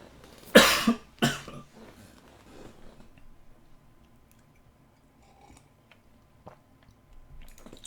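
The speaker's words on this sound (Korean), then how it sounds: "죄송합니다. 기침해서." Two sharp, loud coughs close to the microphone, one right after the other, followed by quiet with faint small noises.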